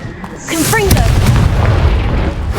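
Casting the Confringo spell in Hogwarts Legacy sets off a heavy, sustained low explosion with a rising whoosh and brief whistling streaks at the start, loud and close, with a voice speaking over it.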